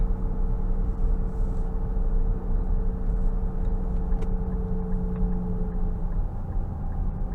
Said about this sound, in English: you're getting quite a bit of noise with these off-road tires